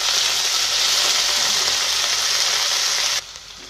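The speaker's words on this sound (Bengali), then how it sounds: "আমি ধনে পাতা দিয়ে দিচ্ছি" Coriander leaves tipped into a pan of fried onions give a loud, steady hiss and sizzle that drops abruptly near the end, with no talking.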